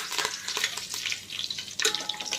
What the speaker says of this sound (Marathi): कढीपत्ता चांगला क्रिस्पी होईपर्यंत तळायचा आहे